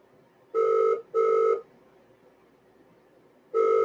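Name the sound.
phone ringing unanswered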